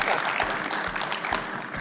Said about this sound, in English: How about a round of applause for both these guys coming on the show?